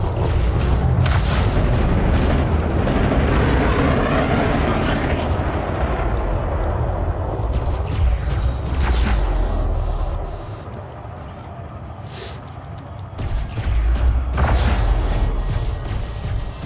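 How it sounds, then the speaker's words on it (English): Railgun fire in the Elite Dangerous space combat game, heavy booming blasts and rumbling impacts with sharp bursts, loud and dense, easing briefly before another round of explosive hits. "I can fire once and then just keep holding down the trigger"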